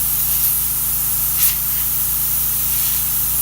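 A Quiet Tech airbrush compressor runs with its air hose wide open, producing a steady, even hiss of escaping air over a low motor hum, constant throughout with one brief louder puff.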